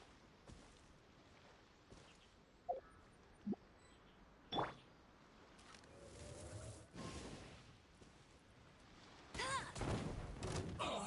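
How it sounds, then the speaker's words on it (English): An explosion in the video game Genshin Impact bursts out as a loud, broad blast of noise. Several sharp thuds and a few short effects come before it, and no one speaks. "The explosion was roughly the size I expected."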